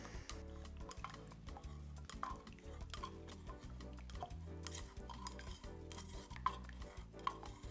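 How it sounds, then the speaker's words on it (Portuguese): Actives being stirred into a lye solution for cold process soap, with a utensil scraping and clinking steadily against the container in a continuous rhythmic stir, close and fairly quiet. "Vou misturar aqui agora."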